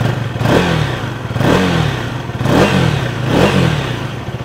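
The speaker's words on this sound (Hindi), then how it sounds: "अब थोड़ा सा रैव करते हैं।" Up close, a 2024 KTM Duke 250 with a 249cc SOHC liquid-cooled engine revs four times in succession, each blip rising and falling back toward idle, its exhaust note loud and clear with no talk.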